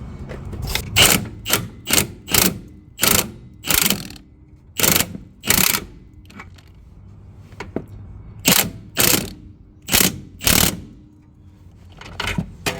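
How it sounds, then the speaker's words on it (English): Impact wrench driving a rear control arm bolt on a BMW X5 E53 during a DIY suspension repair, firing in about a dozen short, loud rattling bursts separated by brief pauses, with no talking. "This one I might be able to use my impact."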